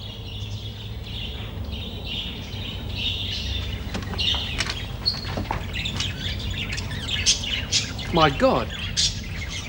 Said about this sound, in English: It looks like a bloody aviary